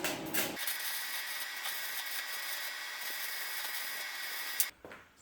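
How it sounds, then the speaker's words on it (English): A steel wood-burning stove that also burns waste oil gets a tack weld. A steady, loud electric buzz crackles close by for about four seconds, then cuts off abruptly. "I'm just going to put a bit of a weld on this side, just literally a tack"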